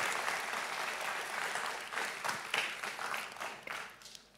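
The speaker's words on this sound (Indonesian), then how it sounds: "Tepuk tangan." An audience at a formal PLN energy event bursts into steady applause, many hands clapping densely and continuously at moderate distance, with no talk over it.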